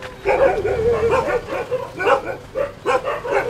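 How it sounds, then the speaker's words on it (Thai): Close, loud barking from a dog at a village house in Thailand, a short run of yaps with whining whimpers mixed between them, no voices over it. "หมาเห่าขนาดนี้ยังนอนเฉยอยู่"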